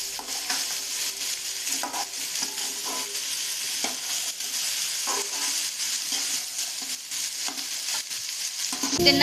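Okra is stirred in a hot tempering of spiced oil, with a steady sizzle broken by repeated spatula scrapes at close range that grow louder toward the end.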